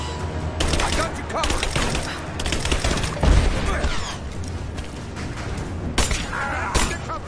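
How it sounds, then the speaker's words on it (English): Rapid suppressing gunfire in Rise of the Tomb Raider, dense bursts of shots with sharp impacts and booms rattling on continuously through a combat skirmish, loud and close throughout. "Give me suppressing fire now!"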